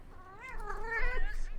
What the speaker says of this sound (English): Basil's coming meowing in there